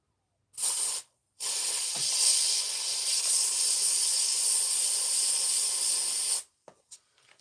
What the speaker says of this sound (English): We're fairly going through Pat's Rapid electrical contact cleaner he sent me